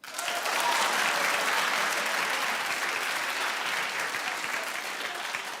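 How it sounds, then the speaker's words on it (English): A daytime talk-show studio audience bursts into sustained clapping that starts abruptly. It stays full and even for over five seconds, then eases off slightly near the end. "Clap if you don't give a damn."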